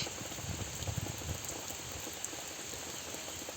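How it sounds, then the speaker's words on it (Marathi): Steady rain patters and hisses continuously, a dense even wash of drops with no voices. "इकडे असा पाऊस पडतोय"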